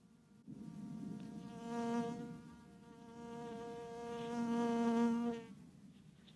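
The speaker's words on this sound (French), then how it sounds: "d'enregistrer le bruit de l'abeille qui vole," A bee flies around a camera, its wings buzzing close and clear in a steady droning hum that swells twice as it nears the microphone and then fades.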